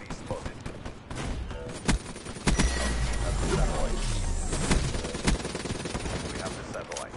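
Gunfire in Black Ops 3, a burst of sharp game shots and rattling automatic fire that runs steadily from about two and a half seconds on, with voices talking over the action.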